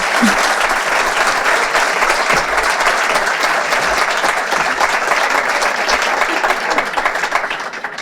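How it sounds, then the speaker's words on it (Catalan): Loud, dense applause from a gala audience at a food and gastronomy awards ceremony, continuous many-handed clapping holding steady for the whole stretch with no break. "Un aplaudiment per Tierra de Ibiza"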